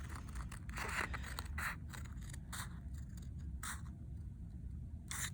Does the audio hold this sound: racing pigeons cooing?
no